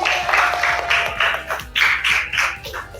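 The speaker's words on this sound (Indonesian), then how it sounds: "Iya, tepuk tangan." Classroom applause, a short burst of close, uneven clapping in pulsing waves from a small group, lasting about three seconds.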